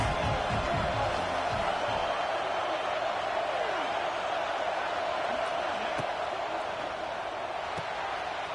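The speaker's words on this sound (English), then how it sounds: "This crowd trying to make life miserable for this offense." A college football crowd at a Notre Dame game keeps up a steady, distant roar, with a commentator talking over it throughout.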